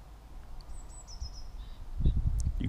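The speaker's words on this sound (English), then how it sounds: "You can probably hear various birds around, even though it's very early in the season." Birds calling in a Dorset ancient hazel woodland early in the season, a thin high whistled phrase followed by a few short chirps over a quiet background, with soft rustling and low thumps toward the end.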